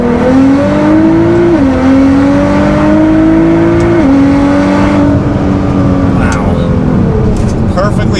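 A Nissan GT-R accelerates hard from first gear with the pedal floored. The loud engine note climbs steadily, drops briefly at each of several upshifts, then climbs again close-up from inside the car.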